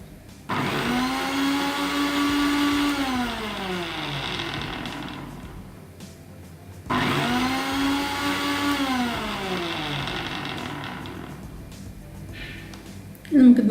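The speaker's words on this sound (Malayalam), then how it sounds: "പക്ഷേ ഇത് അടിക്കുന്ന സമയത്ത് മിക്സിയുടെ ഇടതുഭാഗത്തേക്ക് തിരിച്ചിട്ട് വേണം അടിച്ചെടുക്കാൻ." A mixer grinder whirs in two long bursts while blending homemade mayonnaise with garlic, lemon juice and sugar, its motor rising to a steady high drone and then winding down after each run.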